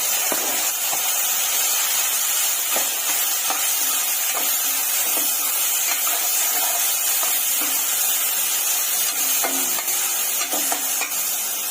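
Chopped onions with a medium-sized tomato fry in hot oil in a pan, a steady bright sizzle broken by repeated clinks and scrapes of a spoon stirring, close and continuous.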